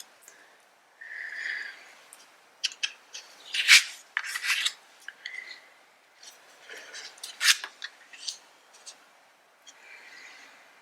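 Oracle cards being turned over one by one during a reading, giving soft papery rasps and flicks in scattered bursts, fairly close and with no voice over them.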